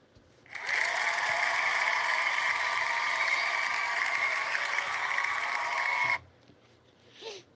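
A cheer-button sound effect bursts in as a dense crowd roar of applause and whooping, loud and steady for about five and a half seconds, then cuts off sharply, followed by a brief faint blip.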